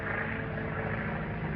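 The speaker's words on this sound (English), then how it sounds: "It's a government plane. They are closing in." A 1930s government airplane drones overhead in an old film, a steady muffled propeller-engine rumble held at a constant level without pause, somewhat distant and dull.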